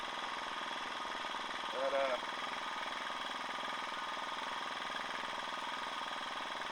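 An angle grinder powered by a small homemade mini generator, a steady droning whine running throughout at a constant level, with one brief spoken word partway through.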